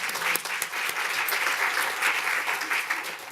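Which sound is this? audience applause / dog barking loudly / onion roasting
audience applause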